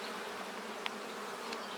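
Honeybees buzzing steadily during a beehive disease inspection, a dense, continuous hum from many bees close by, with faint handling clicks.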